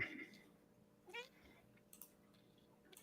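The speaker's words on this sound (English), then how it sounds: "I heard a kitty." A cat meows faintly indoors, a couple of short, quiet mews spaced across a near-silent background with small clicks.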